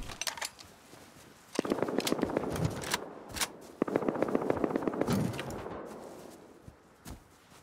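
Automatic gunfire in Rust rattles in rapid bursts, several loud volleys of sharp cracks separated by brief pauses, with scattered single shots near the end.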